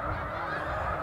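A large flock of snow geese gathered at a creek in Lancaster County during their annual migration, honking continuously in a dense, overlapping chorus that stays steady and fairly loud throughout with no talking.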